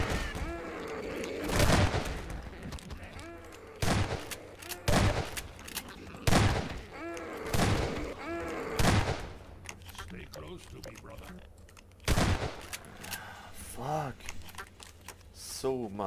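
Gunfire in Half-Life 2, with sharp shots spaced a second or two apart amid scattered impacts and game noise, while someone talks between them.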